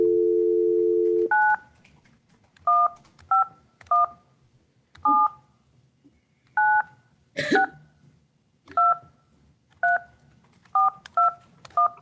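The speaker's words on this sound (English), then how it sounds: "I'm going to try to call Ms. Clute on the telephone since she isn't logged in" A telephone gives a steady dial tone, then a series of short, separate keypad dialing beeps spaced irregularly, with a brief click in the middle. The tones are clear and close, and no one speaks.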